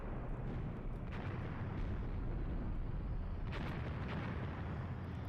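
Return gunfire in a battle from a combined-arms war video game set in an Iran invasion operation, heard as a dense, continuous roar of combat with heavier booming bursts near the start and again midway, with no voices.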